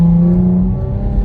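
A deep, rumbling engine of a 2017 Dodge Charger SXT AWD with an aftermarket exhaust drones steadily at close range under light throttle, with a throaty low tone.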